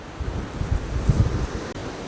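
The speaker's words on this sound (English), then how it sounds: "It's so windy today." Strong wind gusting outdoors on a countryside walk, a steady low roar with buffeting bursts against the microphone, with no voices.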